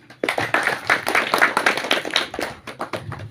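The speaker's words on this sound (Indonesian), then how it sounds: "Berikan tepuk tangan." An audience at a village meeting claps after a welcome speech, a burst of sharp close hand claps starting abruptly and thinning out toward the end.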